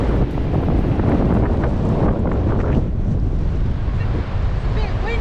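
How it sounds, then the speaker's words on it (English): Wind blowing hard on the coast near Tofino on Vancouver Island, a loud, steady roar of buffeting across the microphone with surf-like rushes and no clear voices. "It's a bit windy here."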